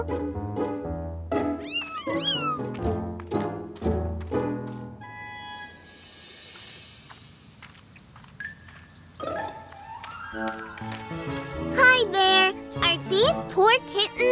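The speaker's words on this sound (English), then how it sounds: "wouldn't it be great to have a cute kitten like that?" Cartoon kittens mew repeatedly in short, high calls over bright music, with childlike cartoon voices talking in between and a tinkling chime near the middle.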